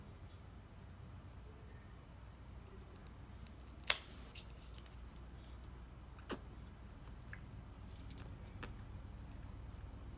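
A cigar cutter snipping the cap of an Aging Room F55 Small Batch Quattro cigar: one crisp, close snip, then a softer click a couple of seconds later, against a quiet background hiss.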